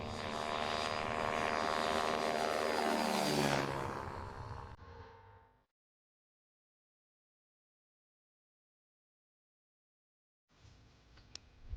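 An ultralight aircraft passes overhead, its propeller engine droning loud and close, then fading with a falling pitch before cutting to silence; engine noise returns faintly near the end.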